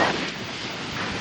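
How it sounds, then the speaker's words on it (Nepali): Strong, frightening thunderstorm wind in Kurseong roars in a steady, loud, broadband rush, buffeting the microphone with a gust at the start, close and continuous with no voices. "मलाई उडाउला जस्तै गर्दैछ कस्तो डरलाग्दो हावाको।"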